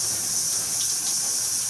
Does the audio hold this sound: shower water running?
yes